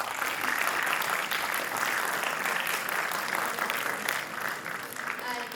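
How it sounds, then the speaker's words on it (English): A hall of school students and audience in Bangalore at a military history quiz event breaks into sustained applause, dense and steady clapping filling the room for several seconds. "Bangalore, give yourselves a round of applause."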